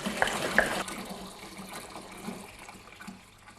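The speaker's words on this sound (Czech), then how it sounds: "Takže když přidáváte vodu, můžete použít vodu z kohoutku nebo převařenou vodu, a nebo tak jako my dnes tady. Pramenitou vodu." Spring water pours for home-brewing Coopers beer, a steady soft gush that is loudest at the start and fades gradually, with a couple of faint clinks early on.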